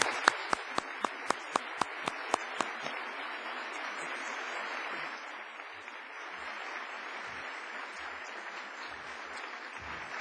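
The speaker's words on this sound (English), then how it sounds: "please join me in applauding our very honorable guests." A seated audience at a 2009 Toronto partner launch event applauds honored guests, opening with a few sharp, distinct claps that quickly swell into a steady, dense wash of clapping sustained to the end.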